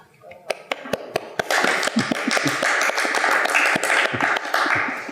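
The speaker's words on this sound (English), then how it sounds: "And I think that's worth an applause." An audience applauds at an interview event on Ukrainian contemporary dance, starting with a few scattered claps that swell into dense, sustained clapping close by.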